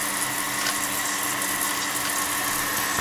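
An electric water pump hums steadily as it draws up water, a continuous close whir with a faint watery gurgle underneath and no talking.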